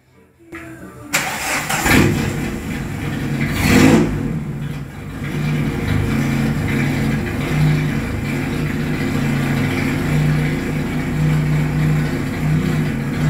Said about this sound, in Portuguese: vamos funcionar aí, vamos ver se ele vai pegar certinho